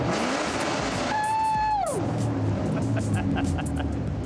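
A modified Ford Mustang with a wide body kit revs loudly nearby, its engine note rising and then dropping back to a throaty idle, with people talking over it.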